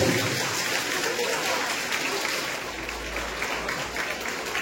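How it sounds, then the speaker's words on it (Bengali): Audience applause welcoming a guest karate sensei, a JKA kata champion, at an event in Krishnanagar; steady dense clapping fills the whole stretch at moderate loudness without letting up. "সবাইকে একটু হাততালি দেওয়ার জন্য অনুরোধ করব"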